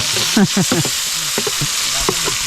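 Spice paste fries in a pan with a steady, close sizzle, and murmured voices or other harmonic sounds rise briefly over the hiss.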